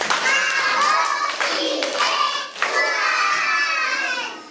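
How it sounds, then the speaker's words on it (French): Schoolchildren at a thanksgiving Mass clapping and cheering together in a lively burst, loud and close, with a brief dip before the applause picks up again. "Applaudissez pour vous-même."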